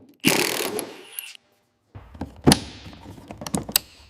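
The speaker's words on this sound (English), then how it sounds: "Go ahead and start threading the bolts." Bolts being threaded on a 1993 Mercedes-Benz 190 give close mechanical ratcheting clicks and light metallic taps in short bursts, separated by a brief silent pause.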